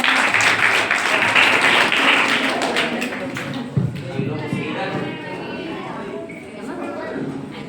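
An audience claps loudly at a school short drama performance, with the dense applause strongest at the start and then thinning and fading out.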